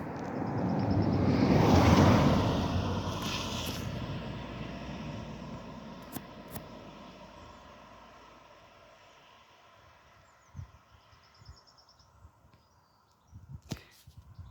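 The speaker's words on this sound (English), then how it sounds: "And sorry, another vehicle. You can hear it on the background" A vehicle roars past in the background along a cycling route, a loud rumbling swell that peaks early and slowly fades, followed by a few faint knocks and clicks, with no voices.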